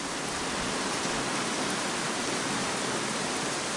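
Hard rain falls in a thick, unbroken roar, loud and near, steady from start to finish, after a day of wind.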